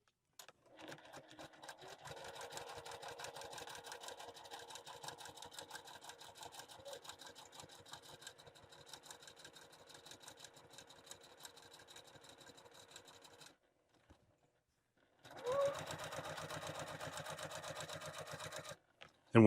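Sewing machine stitching a straight seam down the wide end of a fabric bow tie, a fast, steady, close mechanical whir that runs continuously, stops briefly, then resumes in a short louder burst.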